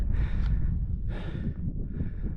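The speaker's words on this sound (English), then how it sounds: "So excuse the heavy breathing, just went up something steep." A hiker breathes heavily after a steep climb in the Scottish mountains, three deep, gusty breaths close to the microphone with wind noise underneath and no speech.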